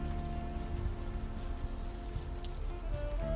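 Rain falls on a city street in the video game Unavowed, a steady patter of drops hitting the pavement over a low ambient hum, moderately quiet and constant, with no voices.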